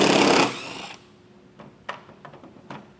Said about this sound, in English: we'll grab an 8mm socket, get the 2 screws that are holding our taillight in place removed